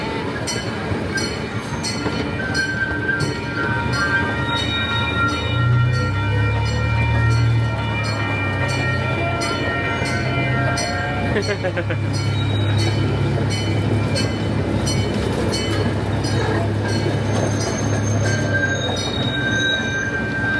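A zoo train at Santa Barbara Zoo rumbles steadily along its rails, with low rolling noise, metallic clatter and occasional wheel squeal throughout.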